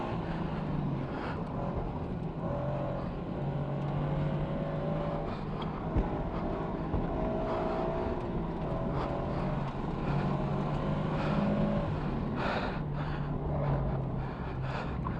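A race car runs a hot lap on a track, its engine roaring loud and steady throughout, with the pitch climbing and falling as it accelerates and shifts.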